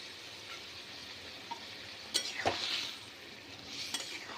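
Prawns go into boiling gravy in a pan and get stirred, giving a soft steady bubbling hiss broken by a few sharp scrapes and clinks of a utensil against the pan, close and without voices.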